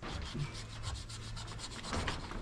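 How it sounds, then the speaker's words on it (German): Holes for nozzle flanges being cut into the wall of an old pool being renovated, a steady rasping, scraping cut running continuously and close, with a faint low hum underneath and no talking. "ich werde jetzt hier die Löcher reinschneiden"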